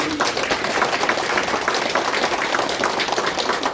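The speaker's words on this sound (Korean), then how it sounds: "이 네 분에게 박수 한번 크게 보내드립니다." An audience at a Korean modern history seminar claps together, a brief burst of dense applause that stays steady and fairly loud from start to finish.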